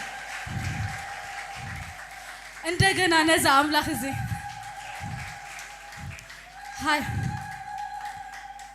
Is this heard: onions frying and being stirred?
no